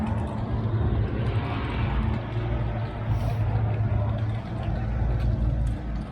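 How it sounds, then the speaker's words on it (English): A roots-blown drag car engine at a Sick Week drag racing event in Gainesville gives off a loud, steady, rumbling roar that fills the whole stretch without a break. "Nothing cooler than a roots blower."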